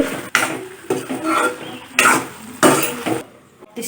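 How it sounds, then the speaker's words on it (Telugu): Spoon scraping and knocking in a pan while curry is stirred after salt is added, several uneven metallic strokes and clatters over a few seconds, close and clear, with no talk. "సాల్ట్ వేసాక ఒకసారి బాగా కలుపుకోండి"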